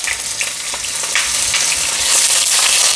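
Garlic ginger paste frying in very hot oil, a loud, continuous crackling sizzle with popping bursts that grows slightly denser toward the end.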